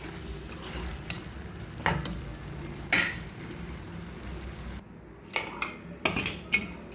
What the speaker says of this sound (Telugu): దీన్ని ఇప్పుడు సర్వింగ్ బౌల్లోకి తీసేసుకుందాం